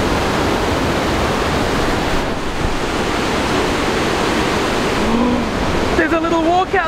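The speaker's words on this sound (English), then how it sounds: "This waterfall is insane!" A huge waterfall roars as a loud, steady broadband rush that fills the whole clip, with voices faintly audible under the water near the end.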